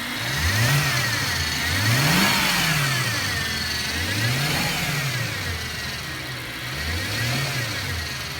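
Car engine repeatedly revving and easing off in a steady cycle, with a rising and falling whine tracking each rev; a faulty whining noise appears between about 1,000 and 2,200 RPM, close and continuous with no talking.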